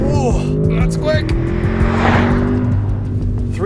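A 2023 Audi S8 accelerates hard from 0 to 60, its engine note rising through the gears with brief shift breaks. The sound is loud and heard from inside the cabin, with voices over it.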